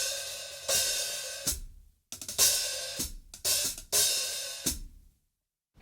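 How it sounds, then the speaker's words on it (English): Dream Cymbals 13-inch hi-hats, a Dark Matter top over an Energy bottom, played in four short, crisp groove phrases with sharp bright chick and wash accents and low kick thumps beneath, each phrase cut off by brief silence. "They're 13-inch hi-hats, and I put a dark matter cymbal on"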